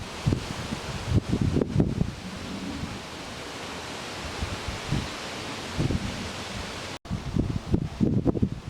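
Gusting wind blows around a Mirador solid 80 louvered pergola on a windy day, a steady broadband rush with rustling surges that rise and fall.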